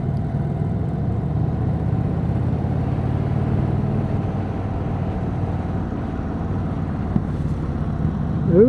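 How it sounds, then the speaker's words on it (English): A 2026 Indian Chief Vintage motorcycle cruising on an open road, its engine and exhaust giving a steady low rumbling drone throughout, mixed with wind rush, no talk. "I really like the sound of this bike"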